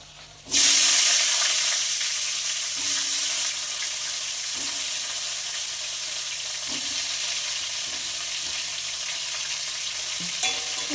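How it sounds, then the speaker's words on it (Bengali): Cauliflower florets dropped into hot oil left from frying fish burst into a loud sizzle that settles into a steady, crackling fry, with occasional stirring knocks. "ওই তেলেই আমি কপিগুলো ভেজে নেব"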